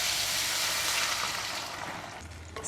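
Pork belly stir frying in a clay pot, a loud, close, hissing sizzle that slowly fades, with a faint clatter near the end.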